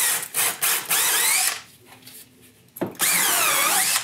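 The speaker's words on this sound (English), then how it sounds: "We got these drill mounted cleaners." Drill-mounted cleaning brushes spin against parts of a 2008 Yamaha Drive gas golf cart, giving a loud whirring, scrubbing buzz in bursts with a brief quieter lull in the middle and no talking.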